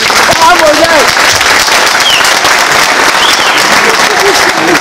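A conference audience at an aquarium-keeping event breaks into loud, sustained applause that fills the hall, with a few voices and calls mixed into the clapping.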